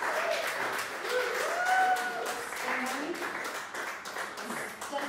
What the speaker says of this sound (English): So big clap for Simon.